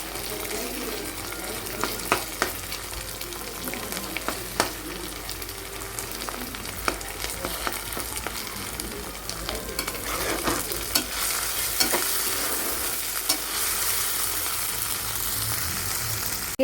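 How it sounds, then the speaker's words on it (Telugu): Ginger garlic paste frying in a pan gives a continuous sizzle, with scattered scraping clicks from stirring throughout and no one speaking. "అల్లం వెల్లుల్లి పేస్ట్ బాగా వేగిపోయింది."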